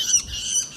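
A pet long-tailed shrike gives a harsh, raspy squawk, close and fairly loud, lasting under a second with no talk over it.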